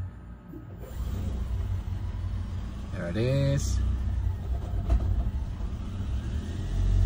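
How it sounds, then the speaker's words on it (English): A car engine starts up after a fuel injector, throttle body, EGR and sensor cleaning service, cranking briefly before catching into a steady low rumble, with people talking over it. "All right. Engine has started."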